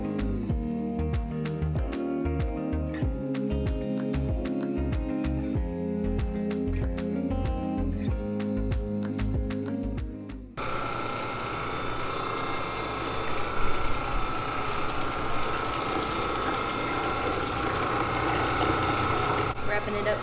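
A Goodnature X-1 commercial cold press juicer runs its press cycle. Rhythmic mechanical clicking and ratcheting shifts into a steady, loud hydraulic hum that continues to the end.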